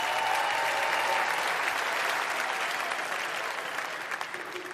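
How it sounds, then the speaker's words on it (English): An audience at a comedy roast bursts into sustained applause, dense clapping from a large crowd that holds steady and then begins to taper off near the end, with no talking over it. "Give her a round of applause."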